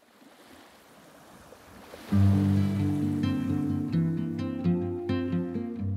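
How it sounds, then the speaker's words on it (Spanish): Roaring ocean waves used as a sound effect in a Spanish-language audiobook reading, a soft wash of surf swelling at first, then joined after two seconds by a loud sustained musical swell that mostly covers the water. "Las olas rugen."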